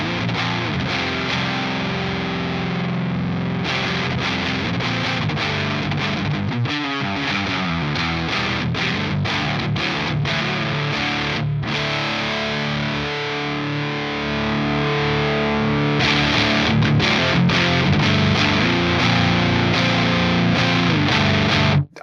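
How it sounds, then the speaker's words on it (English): Heavily distorted electric guitar playing chords continuously through a Fuzz Imp Furia distortion pedal, loud and gritty with thick sustained crunch and no voices. "Already a pretty pleasing form of distortion there."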